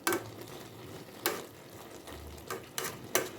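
Laing, taro leaves in coconut milk, cooking in a pan while being pressed down, with soft sizzling under a handful of sharp scraping and tapping strokes from a utensil at irregular intervals, close by and with no talk.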